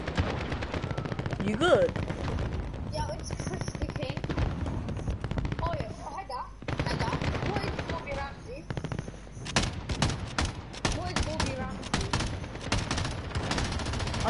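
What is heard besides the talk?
gunfire in the video game Warzone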